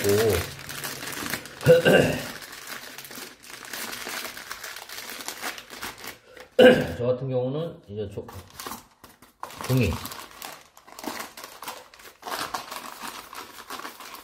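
A plastic piping bag for tile grout is folded and crinkled by hand in bursts of close, crackly rustling, heard under someone talking.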